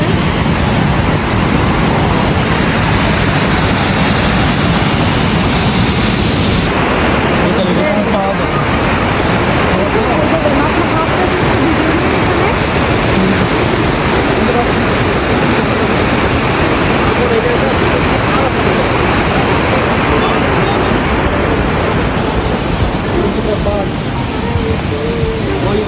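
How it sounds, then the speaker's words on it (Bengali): A waterfall pours down in heavy rain, a loud, unbroken broadband roar of rushing water that fills the whole stretch without pause. "এতক্ষণ আমরা এই ঝর্ণার পানির শব্দই শুনছিলাম"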